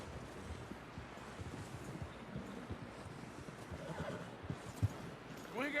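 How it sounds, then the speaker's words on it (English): In the video game Red Dead Redemption 2, a horse whinnies faintly amid a murmuring background, with soft hoof clops and wind noise; a sharper neigh rises near the end. "Someone help John down off this horse."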